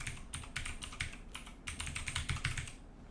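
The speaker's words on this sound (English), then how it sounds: "I'm actually just going to type this out" Rapid typing on a computer keyboard while entering an AWS EC2 command at a terminal, a steady run of close, crisp key clicks in irregular bursts with short pauses.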